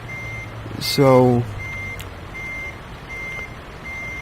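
Reversing beeps of a Peterbilt 579 day cab backing a trailer in American Truck Simulator, steady evenly spaced tones over engine rumble, with a brief spoken word early on.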